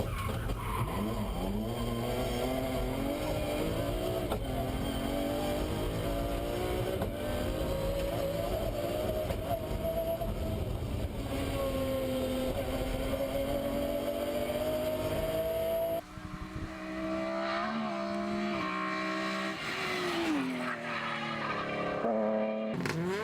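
A Peugeot 306 rally car engine pulls hard through a stage run, a loud sustained rasping drone rising and falling in pitch with gear changes, briefly cut and resuming near the end, with no voices.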